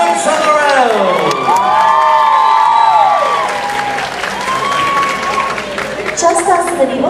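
A crowd at a castle show cheers, whoops and applauds for squires and knights, loud and close, with children shouting and excited voices rising over the clapping before it tapers off.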